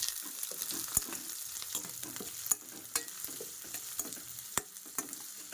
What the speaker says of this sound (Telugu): సో ఇలా వేగిన దాంట్లోనే మనము ఆనియన్స్, మిర్చి కూడా వేసేసుకోవాలి. వేసేసుకొని బాగా వేపుకుందాము.